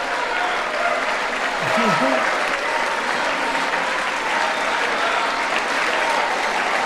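Sustained applause fills the chamber at a State of the Union address as lawmakers stand and clap, a loud, unbroken wash of many hands with a brief voice rising through it early on.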